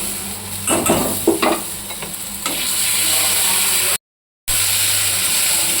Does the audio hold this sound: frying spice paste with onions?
yes